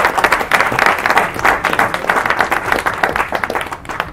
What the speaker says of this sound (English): You know, you need to give him another round of applause.